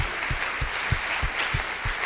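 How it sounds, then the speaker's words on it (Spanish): A church congregation claps in a steady, even rhythm, roughly three claps per second, moderately close with a roomy wash behind it and no voices over it. "Dale un aplauso más fuerte al Señor Jesús."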